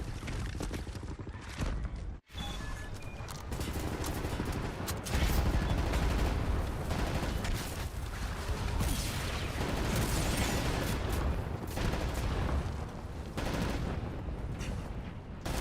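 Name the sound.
suppressing gunfire in a WWII shooter video game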